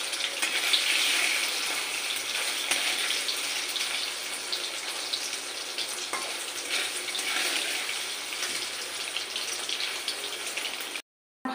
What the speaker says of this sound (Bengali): খুব বেশি ভাজবো না, শক্ত হয়ে যাবে, হালকা হালকা করে ভেজে নেবো।